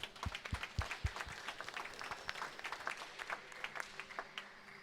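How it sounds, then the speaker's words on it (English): Faint, scattered clapping from a small crowd at a glass-court tournament final, a few distinct near claps at the start blending into light, thin applause. "Round of applause for yourself."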